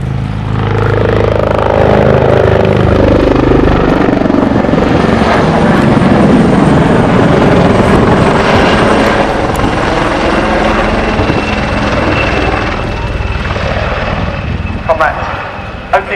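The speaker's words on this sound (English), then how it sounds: "Our MHA2s, MHA standing for Maritime Helicopter Attack. Attack helicopters." Black Cats maritime attack helicopters display at the Cosford Airshow, with loud, steady rotor thump and turbine roar filling the air for the whole stretch, fading slightly toward the end.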